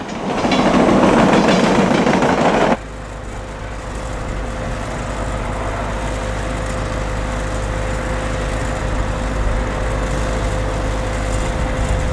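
A westbound Amtrak passenger train rolls through Southfork toward Johnstown and Pittsburgh, first a loud close roar, then a steady rumble of wheels on rails with a sustained tonal hum running throughout.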